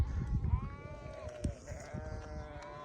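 Sheep and lambs bleat repeatedly nearby, drawn-out wavering calls overlapping one another with soft background noise and shuffling.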